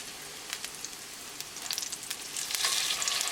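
Chapli kebab lamb patties fry in a hot pan with a crackling sizzle and scattered pops, growing louder and denser toward the end as they are flipped.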